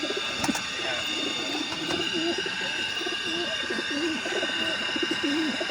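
A female high-flyer pigeon coos in a repeated run of soft, low, throaty calls close by, the rhythmic cooing carrying on steadily over a faint background.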